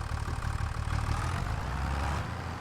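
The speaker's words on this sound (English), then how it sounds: "Tractor doesn't sound that loud anymore." A tractor engine idles steadily in Farming Simulator 25, a continuous low rumble with a throbbing low-end pulse, moderately loud and alone with no talk over it.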